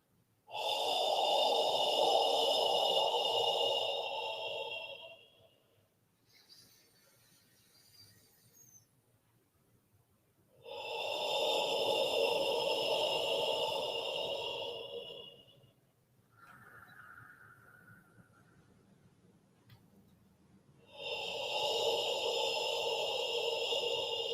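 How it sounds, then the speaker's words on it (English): Whispered guttural 'ho' exhalations from the back of the throat during a qigong pancreas healing sound practice, three long breathy outbreaths of several seconds each, close and steady, separated by quieter pauses with soft inhales. "We'll add the pancreas sound, which is ho, whispered,"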